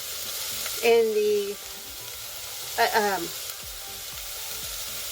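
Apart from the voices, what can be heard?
sautéing onions, garlic and jalapeño in a pan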